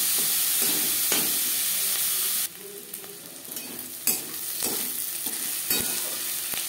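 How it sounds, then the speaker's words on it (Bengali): Chopped onions fry lightly in a pan with a steady close sizzle, broken by scraping stirs of a spatula. The sizzle drops noticeably quieter partway through, and the frying goes on alone without any voices. "হালকা করে পেঁয়াজ ভেজে নেব।"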